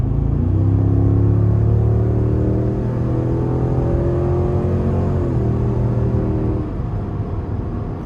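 Cadillac Escalade ESV Sport's 6.2-liter V8 accelerating hard, a loud, close rumbling engine note climbing steadily in pitch through a gear change, with no talking.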